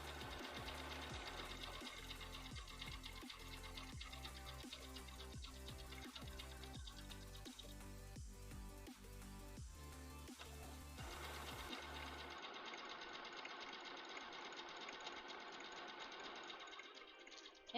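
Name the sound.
sewing machine running a satin stitch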